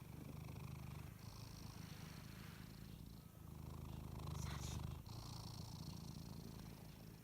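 A pet cat purring at home, a steady low rhythmic rumble that carries on continuously with slight swells, close and fairly quiet, with no voices.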